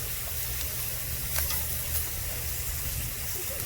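Lamb chops sizzling slowly on a grill, a steady close hiss and crackle with a low rumble beneath and a few sharper pops, no talking.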